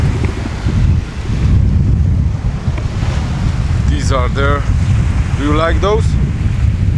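Gusty wind buffets the microphone on Palawan island near the sea, a heavy continuous roar with surf-like wash beneath, while people talk briefly in the later part.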